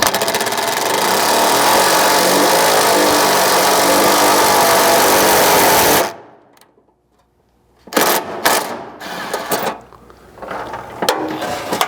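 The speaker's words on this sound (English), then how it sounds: "you'll notice your impact start to kind of speed up as it compresses the rib nut" An impact wrench drives a rivet nut into a Ford Maverick gas tank skid plate, a loud sustained mechanical whir for six seconds, then a pause and several shorter bursts of rattling, ratcheting hammering.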